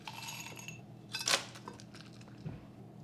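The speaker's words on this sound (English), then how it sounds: "Add some ice to your glass." Ice cubes dropped into a cocktail glass while an apple-garnished cocktail is made, a brief clattering clink of cubes in the middle, fairly close, over faint room noise.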